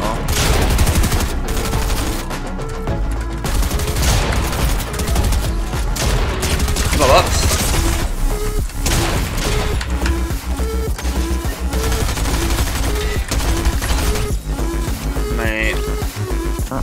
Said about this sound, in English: Yeah, I'm shooting anyway.